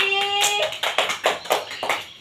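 Classroom applause for a student in a microteaching lesson, a few quick rounds of hand claps in short bursts with some tonal noise in the background, no talk.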